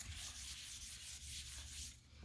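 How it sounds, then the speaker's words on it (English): A board eraser rubs across a board to wipe off a drawing, giving a steady, close, dry scrubbing sound for about two seconds that fades at the end, with no voices. "let me erase this"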